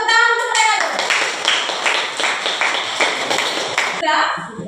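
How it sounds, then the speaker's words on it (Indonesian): Students in a classroom clap together for a presenting group, a steady round of close, lively applause lasting about four seconds, with a voice speaking at the start and end. "kita tepuk tangan untuk mereka dulu"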